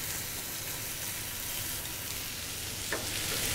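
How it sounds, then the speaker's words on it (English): Chicken breasts sear in a hot pan with a steady, loud, continuous sizzle and hiss, close by with no talking. "Hear the sizzle."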